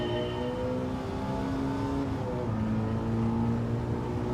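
A high-revving V8 race car engine in a video game whines steadily toward almost 9,000 RPM with rising and falling pitch, a continuous mechanical drone without any voices.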